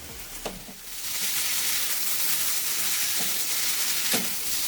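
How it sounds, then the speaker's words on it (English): Paneer tikka sizzling in a pan over high flame for a street-style wrap, a loud steady frying hiss with a few sharp crackles and pops through it. "Our paneer tikka is sizzling and smoking hot."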